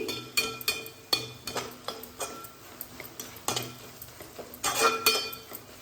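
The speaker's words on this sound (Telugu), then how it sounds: "1 స్పూన్ పసుపు వేసుకొని కలుపుకోవాలండి" A spoon stirs onions, green chili paste and turmeric in a metal pan, giving repeated clinks and scrapes in an uneven rhythm with a faint sizzle underneath, close and moderately loud.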